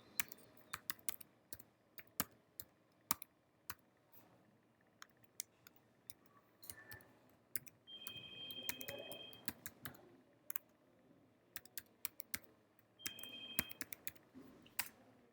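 Computer keyboard typing a user ID and password on a digital library login page: faint, sparse keystroke clicks in irregular bursts over a quiet room.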